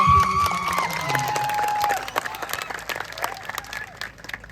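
Crowd applause at an Aam Aadmi Party political meeting in Jhariya, with a loud burst of clapping and cheering that carries on beneath a voice announcing over a public-address system.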